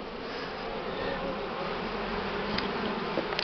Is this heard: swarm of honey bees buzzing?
yes